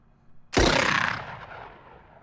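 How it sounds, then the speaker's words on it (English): A single loud shotgun blast in the strategy game Xenonauts hits sharply, then fades into a short rumbling decay. "I didn't know you could miss point blank with a shotgun, but Xenia decided to prove me wrong."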